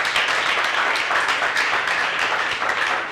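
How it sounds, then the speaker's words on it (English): A room full of people at a secondary school debate applauds steadily, dense overlapping claps continuing at even loudness throughout. "give yourselves a round of applause"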